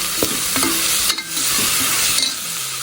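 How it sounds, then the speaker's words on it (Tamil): Tomato, ginger-garlic, mint and coriander sauté in a hot pan for coconut-milk bean rice. A loud, continuous sizzle is broken by a few sharp spoon scrapes and stirring clinks, up close and without talk. "அதில் புதினா மல்லியை போட்டு வதக்கணும்"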